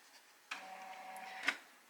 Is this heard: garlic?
no